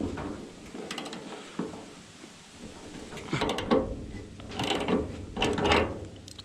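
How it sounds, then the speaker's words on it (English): A ratchet with a 1/2-inch socket works at a bolt on a 1940s Chevy trailer being taken apart, with scattered clicking strokes and metal clanks over a steady background hiss, growing louder toward the end. "Now, 1/2-inch socket here. See if I can get this off."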